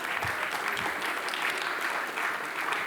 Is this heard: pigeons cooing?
no